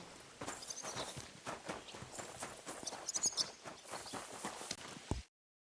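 Rhythmic clip-clop of horse hooves walking at a steady pace in the video game Kingdom Come: Deliverance II, close and clear, ending abruptly in silence.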